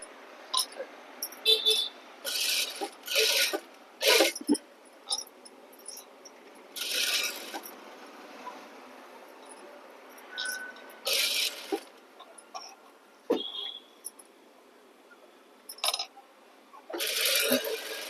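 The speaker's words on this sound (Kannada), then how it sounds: "ಈ ತರ ಫೋಲ್ಡ್ ಮಾಡ್ಕೊಂಡು ಇದ್ರ ಮೇಲೆ ಸ್ಟಿಚ್ ಮಾಡ್ಕೊಂಡ್ ಬರಬೇಕು" A sewing machine stitches along the folded edge of a blouse in several separate bursts, each run close and clear, with quiet pauses in between.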